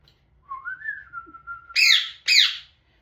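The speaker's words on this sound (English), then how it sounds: "we're just going to whistle him a song like that." A person whistling a song, a sustained wavering tone followed by two loud, sharp, bright trills, clear and close in a quiet room.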